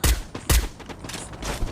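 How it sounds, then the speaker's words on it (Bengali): Rapid gunfire bursts from a mobile sniper shooter game, two loud sharp volleys followed by softer distant shots, with no voice over them. "চলো সামনে একটা প্লেয়ার ফাইট নিতেছে, ফায়ার দিছে।"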